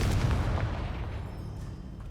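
Confringo blasting spell going off in Hogwarts Legacy: a heavy, booming explosion with a deep low thud at the start, fading into a dull rumbling tail, with no talking.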